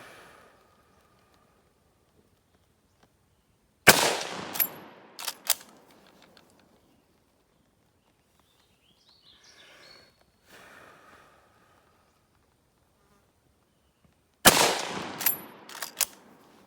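A Ross MkII 1905 rifle being sighted in fires two loud, isolated shots about ten seconds apart, each followed by a brief ringing echo, with quiet shuffling and bolt handling between.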